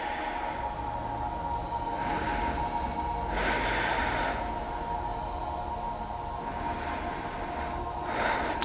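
Deep, slow breaths drawn in and let out through the nose during a beginner yoga flow, several soft airy swells in an irregular rhythm close to the mic over a low steady background hum, with no talking.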